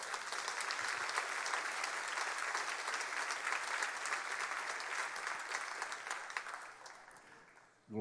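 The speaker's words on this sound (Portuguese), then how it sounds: "Você pode aplaudir ao Senhor?" Church congregation applauding the Lord during a sermon, a dense sustained wall of clapping that carries on for several seconds, then thins and fades near the end before a sudden noise cuts in.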